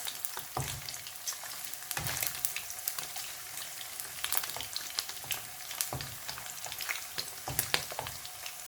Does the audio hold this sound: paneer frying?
yes